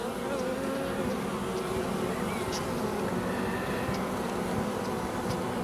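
Honeybees buzz continuously around an open hive as a beekeeper inspects the frames, a steady droning hum with individual bees passing close now and then.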